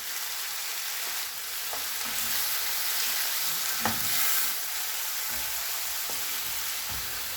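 Tomatoes and spices sautéing in a pan, giving a steady close sizzle and frying hiss with a few soft stirring knocks throughout and no voices.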